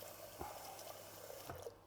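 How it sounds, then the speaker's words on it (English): Hot water pours from a tap into a pan for cooking pasta, a faint, steady running trickle with a few small splashes and drips, heard alone without talk. "So I need some hot water in my pan."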